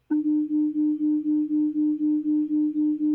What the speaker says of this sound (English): that constructive destructive interference pattern happens 4 times in 1 second